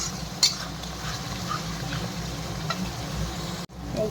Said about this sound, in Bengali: এগুলো দিয়ে এখন ভালো করে মশলাটা কষাবো আমি। মশলাটা ভালো করে কষিয়ে নিই।